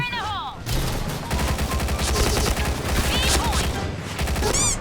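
Rapid bursts of P90 gunfire in a first-person shooting game, a dense close rattle of shots running almost continuously, with electronic game effects sweeping in at the start and end.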